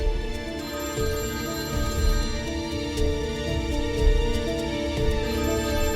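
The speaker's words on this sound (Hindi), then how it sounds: "मैंने कहा था ना कि इस वक्त किसी का फोन नहीं आना चाहिए।" A telephone rings indoors in a home drama scene, its repeating electronic tone steady and fairly clear over a dense musical score, with no one speaking.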